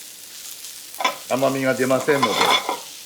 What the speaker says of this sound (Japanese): だいたい中火の弱火でじっくりと、まあ我々のエチュベって言うんですけど、汗をかかせながらこう炒め